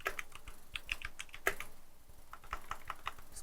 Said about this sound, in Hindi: यहाँ पे अब हम अपना टेक्स्ट टाइप करेंगे